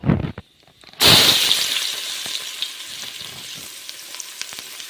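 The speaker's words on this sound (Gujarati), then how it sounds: "હવે એમાં નાખી દઈશું આપણે ડુંગળી" Two chopped onions hit hot oil for Kathiyawadi vagharelo rotlo with a sudden loud sizzling burst that slowly settles into a softer, crackling fry.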